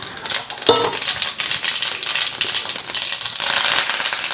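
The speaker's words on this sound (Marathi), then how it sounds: "तेल गरम झालं की मग यामध्ये आपल्याला मोहरी घालायची आहे आणि थोडेसे जिरे घालायचे" Mustard seeds and a little cumin crackle and sizzle in hot oil for a tempering, a steady close frying hiss with sharp popping spatters throughout, no talking.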